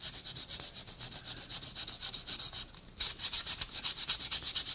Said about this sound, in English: run your sandpaper over the waxed surface here